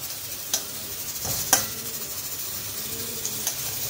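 Rice fries in a pan with a low, steady sizzle and a few sharp clicks of a utensil against the pan, close and fairly quiet throughout.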